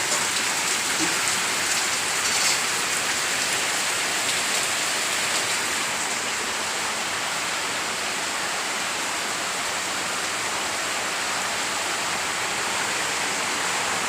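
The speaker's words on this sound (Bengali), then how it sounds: "প্রচণ্ড হারে বৃষ্টি হচ্ছে" Heavy monsoon rain pours down steadily, a loud, dense, unbroken hiss of water hitting surfaces up close, with no voices and no let-up.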